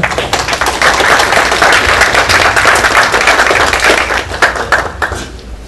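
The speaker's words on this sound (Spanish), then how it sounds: "Para que sigamos con un aplauso a Jorge Saavedra." Dense, loud applause from an audience at an international scientific conference, steady rapid clapping throughout before tapering off at the end.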